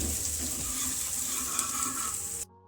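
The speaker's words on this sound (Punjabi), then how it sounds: "ਲਸਣ ਤੇ ਇਹਨਾਂ ਨੂੰ ਆਪਾਂ ਭੁੰਨ ਲੈਂਦੇ ਹਾਂ 2 ਮਿੰਟ ਵਾਸਤੇ ਆਪਾਂ ਇਹਨਾਂ ਨੂੰ ਭੁੰਨਾਂਗੇ" Garlic and ginger frying in a pan for Manchurian, a steady close sizzle with light stirring scrapes running for a couple of seconds before cutting off abruptly.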